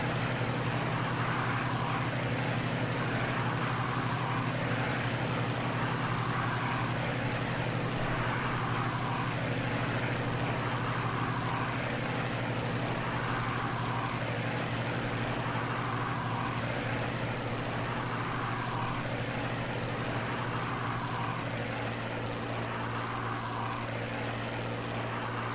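Steady droning propeller engine of a warbird fighter aircraft in Microsoft Flight Simulator, a loud continuous airplane roar with a pulsing rhythm and no voices over it.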